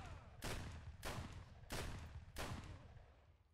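Four evenly spaced gunshots from a video game armor test against T-5 and Redut-M armor, each a sharp loud crack with a booming tail, fired roughly every 0.65 seconds with no talking.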